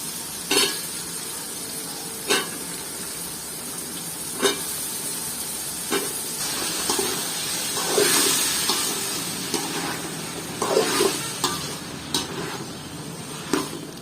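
A spatula repeatedly scrapes and taps a pan as sliced ridge gourd sizzles and fries steadily, with irregular clinks every second or two.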